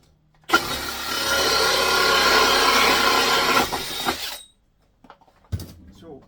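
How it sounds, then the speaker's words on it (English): A powerful compact combi drill with an anti-kick device whirs loudly for about four seconds in a workshop, then cuts off, followed by a few brief knocks. "So very, very powerful little combi drill."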